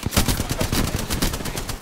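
Rapid automatic gunfire in Apex Legends, a dense, loud burst of shots in quick rhythm filling the whole moment with no pause.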